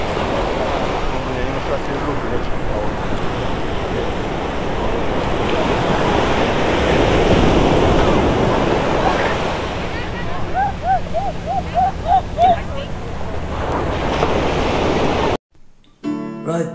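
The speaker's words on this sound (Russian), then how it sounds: "На самом деле волны такие не детские." Heavy, stormy ocean surf breaks and rolls onto a beach in Los Angeles, a loud continuous wash with wind buffeting the microphone, ending abruptly near the close.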